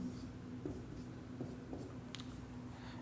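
Steady, soft scratching of writing on a board runs under a constant low hum, with a few faint taps and a brief sharper stroke near the end.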